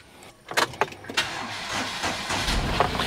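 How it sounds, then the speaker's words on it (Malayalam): A Tata Nano's engine cranks over for a long, strained stretch, with several bursts of starter effort followed by a steady running rumble, close and loud. "ഒരു നീളം വലിക്കൽ ഉണ്ട് വണ്ടിക്ക് എന്തായാലും"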